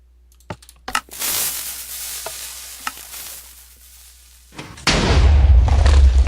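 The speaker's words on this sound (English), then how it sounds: "Make sure they're filled. They are, and we fire." A TNT hybrid cannon in Minecraft clicks and clatters in scattered mechanism ticks, then fires in a sudden, loud, roaring explosive blast that sustains to the end.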